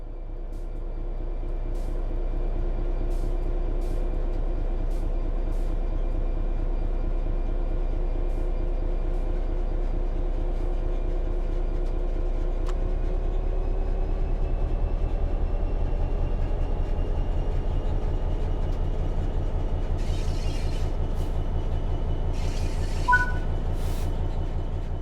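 Electric train traction motors in Train Sim World 3 accelerating under power, a steady low hum and drone that rises gradually in pitch over about 25 seconds, with faint higher tones near the end.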